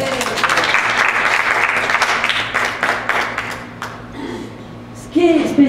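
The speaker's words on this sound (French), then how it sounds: "On peut applaudir." A church congregation applauding, a thick wash of clapping that fades away over several seconds before a voice speaks briefly near the end.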